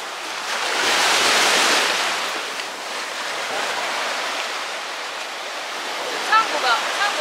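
Sea waves wash onto the shore at Kouri Island, Okinawa, a steady broad hiss of surf that swells and eases, with wind noise on the microphone and faint voices in the background.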